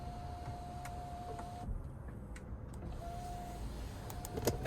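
The power sunroof motor on a 2026 GMC Acadia Denali Ultimate hums steadily as the panel slides open, stops, then hums again in a shorter second run, with faint clicks from the cabin.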